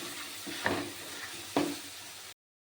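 Papaya kofta curry masala sautéing in a pan, a soft steady sizzle with two sharper scraping stirs of a spatula, close and fairly quiet, then sudden silence.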